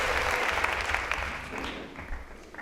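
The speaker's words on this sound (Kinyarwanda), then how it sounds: "mugakomera Imana amashyi menshi" A church congregation bursts into loud, dense applause that carries on steadily, then tapers slightly toward the end.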